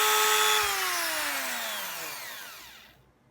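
A small power drill boring a 1.8 mm hole for a tripod phone mount, its whine loud and close, pitch sliding steadily downward as the motor slows, then cutting off to silence near the end.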